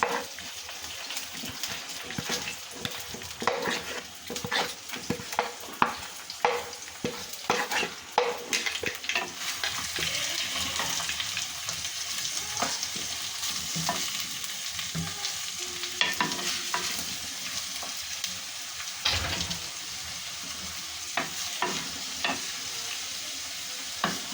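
Three sliced onions sauté in oil for a Kerala-style crab curry, a continuous close sizzle broken by frequent scraping stirs and spatula knocks against the pan, with no talking.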